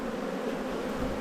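Honey bees hum in an open hive packed with brood frames, a dense, continuous buzzing swarm heard up close with no pauses.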